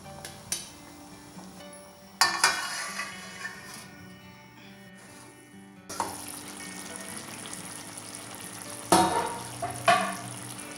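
Besan gatte sabzi simmers in a pan on low flame with a soft, steady sizzle, broken by sharp clinks and clatters of utensils and a lid near the pan.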